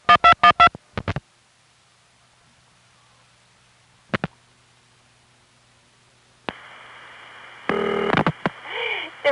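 Dialing on a 1974 #5 Crossbar exchange line in Van Nuys: a quick run of touch-tone bursts and a couple of lone tones, then a steady tone mixed with line noise near the end.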